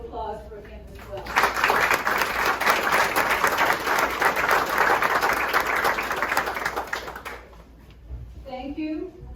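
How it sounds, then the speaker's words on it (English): An audience at the Norman Studios Silent Film Museum in Jacksonville, Florida breaks into sustained applause for several seconds, a dense crowd of clapping hands that swells and fades, with a speaker's voice heard briefly before and after. "So I want a round of applause for him as well."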